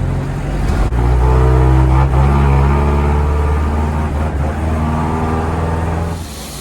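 The diesel engine of a 2005 Magirus Otokar M2000 Sport bus revs loudly up close, a deep, steady roar that swells and holds for several seconds before easing off at the end, with no other sound.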